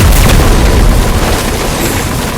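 Massive explosion of Gojo's reversed red technique, a loud continuous boom with dense rumbling low end and broad crackling roar sustained throughout, from a dramatized audio manga fight between Gojo and Sukuna.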